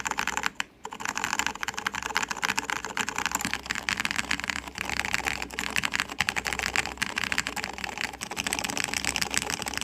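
Rapid continuous typing on a Switch J-02 keyboard built with green Alps switches, dense clacky keystrokes close and loud throughout, with one brief pause near the start.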